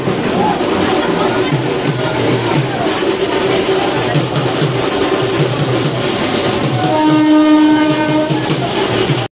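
Train running on the way to Naihati, heard from inside a carriage: a steady loud rumble of wheels and rolling stock, with a horn-like tone rising near the end and crowd murmur throughout.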